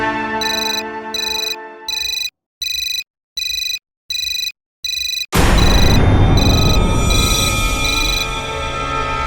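Mobile phone ringtone trilling in repeated short bursts with brief gaps, then cutting into a loud, dense wash of jumbled noise for the rest.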